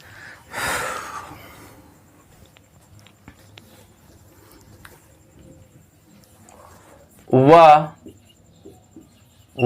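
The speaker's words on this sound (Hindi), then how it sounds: "तो अब मैं मिटा रहा हूं" A classroom board wiped during a spoken English lesson gives one short, dry scrubbing rush early on. A quiet stretch follows, then a brief voice-like burst near the end.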